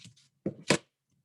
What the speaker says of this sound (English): He's chopping peppers right now.